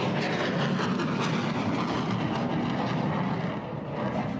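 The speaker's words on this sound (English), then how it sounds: "The third one also now ready for takeoff for solo flight." A Mirage 2000 jet on takeoff for a solo display at an air force anniversary celebration gives off a steady, loud broadband roar that holds unbroken throughout, with no talk over it.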